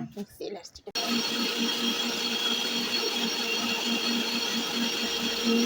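A kitchen mixer grinder whirs loudly and steadily as it grinds coconut, shallots and garlic into a masala, following a brief stretch of speech at the start.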